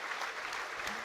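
Football crowd at Wrexham v Burton Albion applauding for a minute in memory of a fan, a broad, even roar of distant stadium clapping filling the whole moment.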